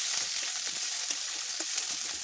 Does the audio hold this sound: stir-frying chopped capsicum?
yes